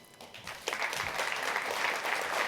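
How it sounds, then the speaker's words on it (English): Audience applause for a panel on misinformation and disinformation at a MozFest event, a dense steady patter of clapping that swells after the first moment and holds loud to the end, with no voices over it. "So big round of applause for them."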